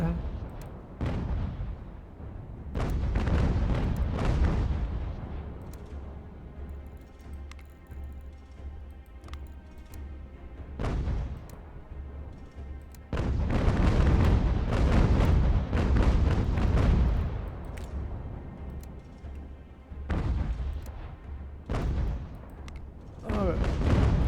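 A 46-gun warship fires its cannons in the UGAR video game naval battle, heavy booming broadsides in rolling bursts with long rumbling tails, separated by brief quieter gaps, loud and close.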